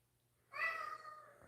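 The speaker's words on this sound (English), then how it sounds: "will you stop meowing at me" A cat meows once, a clear drawn-out call that fades near the end, close by and on its own against a quiet room.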